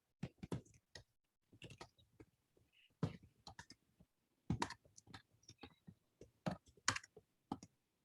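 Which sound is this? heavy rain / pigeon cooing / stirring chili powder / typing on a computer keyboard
typing on a computer keyboard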